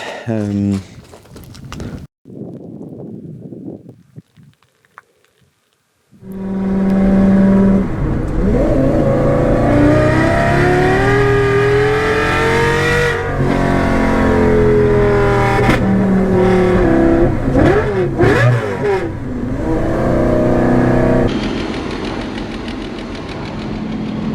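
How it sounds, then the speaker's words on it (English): A drifting Subaru BRZ with a 2JZ engine swapped in roars loud and near, revving up and down in long sweeps with a rough, knocking idle edge, preceded by brief talk and a quiet pause. "this drifting Subaru BRZ with a 2J"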